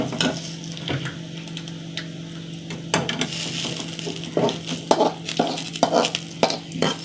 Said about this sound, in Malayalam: വെളുത്തുള്ളി മൂത്ത് വരട്ടെ. ഒരു നുള്ളു മുളക് പൊടി ഇട്ടാ കേട്ടോ,